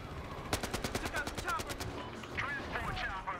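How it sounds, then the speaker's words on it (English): Rapid burst of automatic gunfire in the Battlefield Hardline video game, about a dozen sharp shots in quick succession, then scattered game effects and faint chatter. "that was some pretty epic shots"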